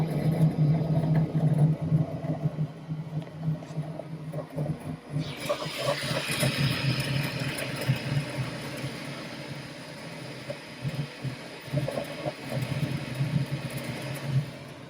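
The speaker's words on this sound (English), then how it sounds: "That's the sound of the P1S as it starts to do some printing." Bambu Lab P1S 3D printer starting a print, a loud mechanical hum with rapid rattling and whirring motor movements that grow busier and brighter partway through, continuous and close.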